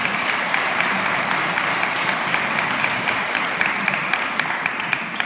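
Sustained audience applause at a cultural ceremony in Italy honoring a maestro's mosaic work, a dense, steady wash of many hands clapping that fills the whole stretch evenly without voices on top.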